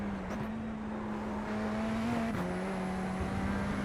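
A Radical race car in the iRacing simulator drones at a steady high engine note, and its pitch dips once as it shifts gear, loud and continuous with no voices.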